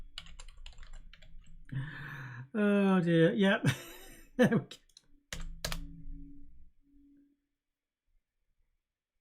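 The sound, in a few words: typing on a computer keyboard during live coding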